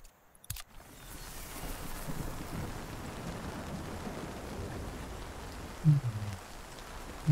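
Steady rain falls in the video game Nightingale, a soft continuous hiss throughout with a few brief louder knocks near the end and no talking.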